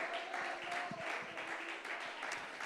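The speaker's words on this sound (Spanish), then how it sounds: "¿Cuánto le dan aplausos al Rey de Gloria?" A church congregation claps through a sermon, a rough, continuous wash of applause at moderate level with voices faintly mixed in.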